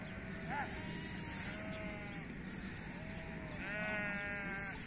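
A flock of sheep bleats from a distance in village pasture, several drawn-out calls spaced across the clip over faint wind and background hum, no talking.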